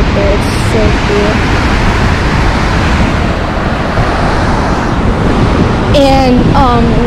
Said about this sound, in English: And this is the waterfall right now.